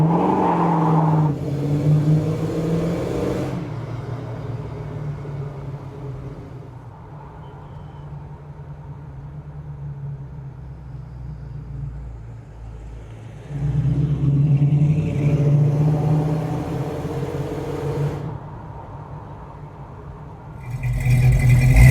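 A 1951 Chevrolet 3100 pickup truck drives by, its low engine rumble swelling near the start, fading to a distant hum, then rising again loud as it approaches and passes close, with no voices.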